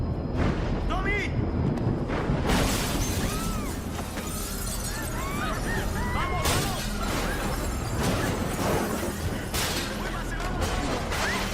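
Loud crashes and shattering debris during an earthquake, with rumbling explosive bursts and breaking material continuing throughout, dense and close, with voices calling out amid the chaos.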